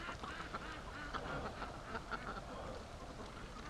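Pet ducks quack in faint bursts at a feeder in a fall pen, several calls overlapping in a soft, busy chatter from a short distance.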